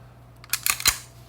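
A SIG P-series pistol gives a small metallic click as its single action trigger is pulled, a couple of brief, close snaps over a quiet background hum.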